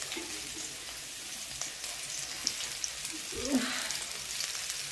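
Onion and chilli fry in a pan at home, a steady close sizzle with a faint crackle and a brief stirring scrape partway through.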